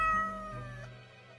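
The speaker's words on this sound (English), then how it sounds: "Meow, the cat notes while casually twirling around on her spot, pawing at the table" A cat meows in a video game, one clear drawn-out meow that starts loud and close, then slides lower and fades, with no talking.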